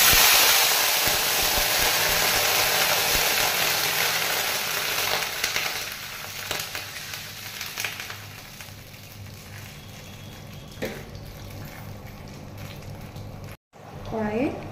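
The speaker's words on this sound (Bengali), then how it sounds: "কড়াইয়ে জলটা ফুটছে" Water boiling in a kadai, a dense steady hiss and bubbling that stays loud at first and eases a little later, with a brief break near the end and talk underneath.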